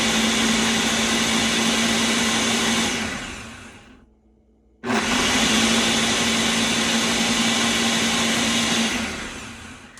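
A kitchen blender whirs loudly and steadily as it purées sofrito, cuts out for a moment, then roars back at full power before winding down slightly at the end.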